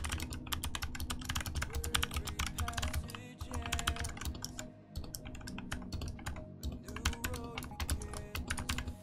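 Rapid typing on a mechanical keyboard fitted with Purple switches, a steady stream of sharp, close clicks and clacks, fairly quiet, with no voices.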